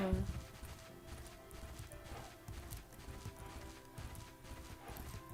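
Horse hooves trotting in the Bella Sara video game, a steady clip-clop of repeated hoof beats at moderate distance, quiet and fairly even in rhythm over a soft background.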